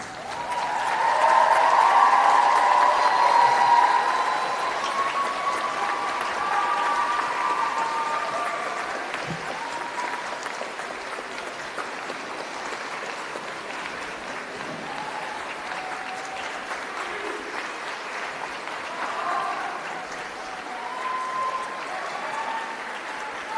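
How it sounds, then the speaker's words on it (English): Graduates at a Cardiff University graduation ceremony stand and applaud their supporters, a loud, dense, sustained wave of clapping from a large hall crowd that holds steady throughout, with some cheering at the start. "So please, can you stand and applaud your supporters?"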